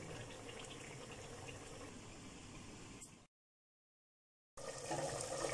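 Water pours into a pressure cooker holding browned meat for nihari, a steady rushing splash that cuts off abruptly, leaving a short silence before the flowing resumes just as loud.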